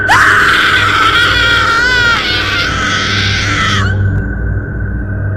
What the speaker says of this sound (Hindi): एक लड़की जोर जोर से चीखती है।